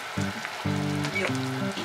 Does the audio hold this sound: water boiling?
yes